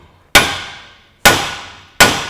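A hammer strikes a wheel bearing housing three times with sharp ringing clangs that trail off between each blow, loud and close.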